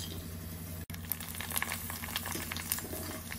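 Pani puri dough rounds fry in hot oil, giving a steady, moderately quiet bubbling sizzle with small crackling pops throughout.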